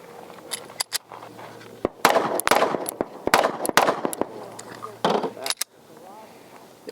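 A Sig P365 AXG Legion pistol fires a string of loud, sharp, close shots in an uneven rhythm, each ending abruptly. Brief bursts of speech are heard in the quiet gaps between shots.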